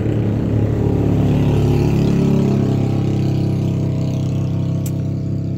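Motor engines drone loudly and continuously nearby, one deep rumble shifting in pitch partway through as a vehicle passes, with no voices over it.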